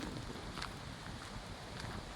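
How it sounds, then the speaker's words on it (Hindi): Cold dawn wind blowing outdoors at the Osho Pyramid meditation centre near Vikasnagar at six in the morning: a faint, steady broadband rush buffeting the microphone, with no voices. "ठंडी ठंडी हवा चल रही है"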